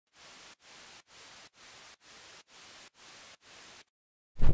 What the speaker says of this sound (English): Add some white noise to make the drop feel a bit more heavy.